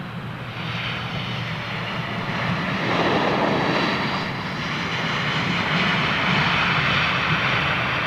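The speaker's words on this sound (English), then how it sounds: "Drowning out the sound of the XWB firing up." Airbus A350 XWB jet engines spool up at foggy Heathrow Airport, a broad steady roar that swells slightly after a few seconds and holds loud and continuous throughout.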